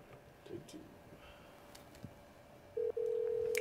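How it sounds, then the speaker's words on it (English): A telephone rings in a real estate office during a live call, a steady electronic tone that starts near the end, under faint background noise. "If you guys can hear the phone ringing"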